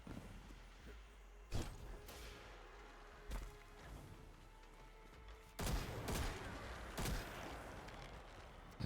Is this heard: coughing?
no